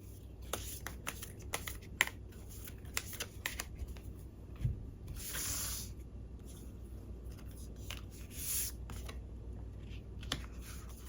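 Tarot cards are shuffled by hand at close range, a series of soft riffling bursts and light taps in irregular rhythm against a quiet room, without any talking.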